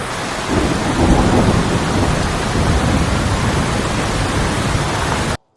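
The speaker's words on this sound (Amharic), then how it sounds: "ዝናቡ ምድርን ያጥባል" Steady heavy rain in a thunderstorm, a loud dense wash with deep rolling rumble underneath, continuous for about five seconds before cutting off abruptly.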